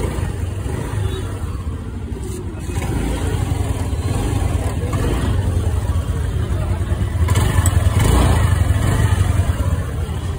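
A motorcycle engine due for an oil change idles with a steady low rumble throughout, slightly rougher and louder toward the end, with faint background noise.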